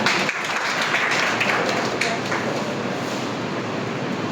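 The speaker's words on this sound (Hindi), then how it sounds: "एक बार बजाओ जोरदार ताली इसके लिए।" Loud applause from a class for a student selected into railway training, a dense roar of clapping from a packed room that stays strong from start to finish.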